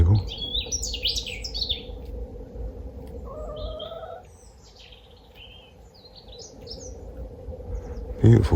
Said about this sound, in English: Beautiful song, robin.